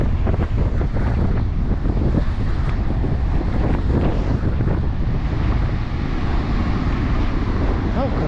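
Strong wind gusting across Foxton Beach and its dune fields, roaring and buffeting the microphone loudly and continuously, with surf rumbling underneath and a voice faintly audible beneath the noise.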